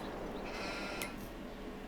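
Sheep bleating in Farming Simulator, a short faint bleat or two over a steady low background hum with no talking.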